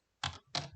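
Two quick, close keystrokes on a computer keyboard as a name is typed into a form, each a sharp clack separated by a short pause.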